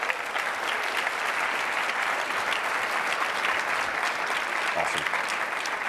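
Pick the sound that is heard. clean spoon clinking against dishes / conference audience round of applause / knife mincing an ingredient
conference audience round of applause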